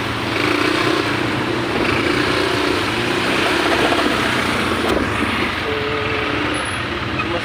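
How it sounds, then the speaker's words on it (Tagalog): Heavy road traffic at a congested stoplight, with trucks and other engines idling and rumbling in a steady, dense drone and a faint tonal whine near the end, no talk. "Traffic na traffic na."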